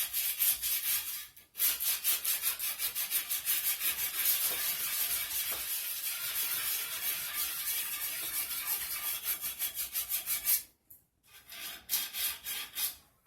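An edge of soft marble tile being sanded with 80 grit abrasive, a continuous close gritty rasp of quick back-and-forth strokes that stops briefly near the start and again near the end, with no voices.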